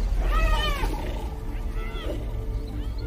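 Lions in an African territory contested by wild dogs and hyenas give loud snarling roars and growls, a strong burst early and another near the middle, close and harsh against outdoor background noise.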